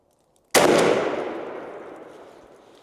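A turkey shotgun fires a single TSS number 7 shot load at a 40-yard target, one sudden loud blast after near silence, its boom and echo decaying slowly over about two seconds.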